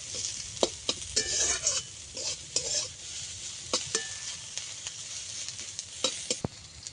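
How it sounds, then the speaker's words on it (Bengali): Spice paste and onion frying in a pan for a fish curry, with a soft continuous sizzle broken by repeated sharp spatula scrapes and taps against the pan, close and fairly quiet. "এরকম করে ভাজতে হবে মশলাটাকে পেঁয়াজটাকে আর একটু লেড়ে চেড়ে ভেজে নেবো"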